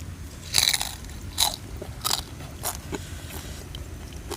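Close, crisp crunches of teeth biting into the crackling skin of a roast suckling pig, several distinct bites spaced about a second apart, fading to quieter chewing.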